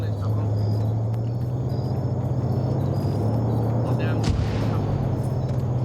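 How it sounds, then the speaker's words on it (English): Mortar rounds landing during an OFCRA multiplayer military shooter match, a heavy continuous rumble of distant impacts with one sharper crack near the end, all under a steady voice talking. "Hearing some mortar rounds come in"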